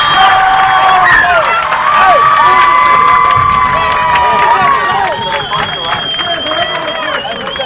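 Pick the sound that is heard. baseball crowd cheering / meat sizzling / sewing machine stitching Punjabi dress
baseball crowd cheering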